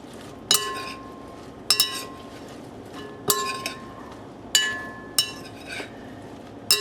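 A whisk or spoon clinks against a glass bowl while asparagus tart dressing with white wine vinegar is mixed, giving six sharp, bright taps spaced about a second apart over quiet room tone.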